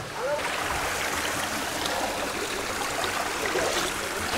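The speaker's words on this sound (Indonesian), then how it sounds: "Kita sudah sampai guys di air terjun terakhir." Steady, loud rush of water at the last waterfall of a village trail in Indonesia, a close continuous roar of falling and flowing water with no break; no voices heard.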